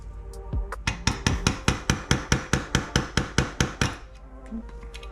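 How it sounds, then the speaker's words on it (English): A small hammer tapping a pin into a Specna Arms V2 airsoft gearbox, about seventeen sharp metallic taps in a quick even rhythm over four seconds, close and loud, ending in quiet. "I'm going to use this screwdriver and this little hammer."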